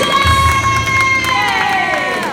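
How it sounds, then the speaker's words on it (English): A live stunt-show crowd at Universal cheers loudly for the winner of Fear Factor Live, with whoops and shouting. A bright, sliding tone rises above the steady roar, which stays loud and sustained throughout. "Put your hands together for your winner, Antonio!"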